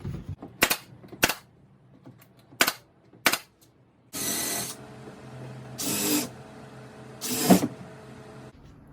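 A brad nailer fires several sharp, close shots through wooden boards of a yard gate, spaced irregularly, followed by three longer hissing bursts of air.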